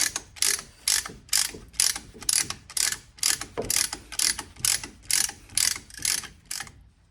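Regular ratcheting clicks, about a dozen sharp bursts in even rhythm, come from a tool compressing the front brake caliper pistons on a 2016 Mazda CX-5, close and crisp, then stopping.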